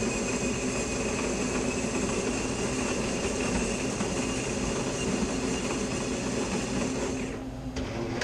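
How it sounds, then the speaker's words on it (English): Espresso machine, an NA3 model serviced a couple of times over about four years, brewing a shot with a steady loud pump drone and hiss, which cuts out near the end. "let me just brew some espresso here for you"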